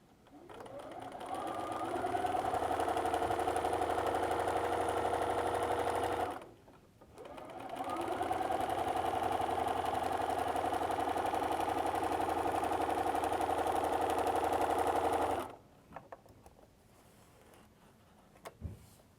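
Sewing machine stitching straight quilting lines with a walking foot, a steady close mechanical whir in two long runs separated by a brief pause, then stopping with a few small clicks.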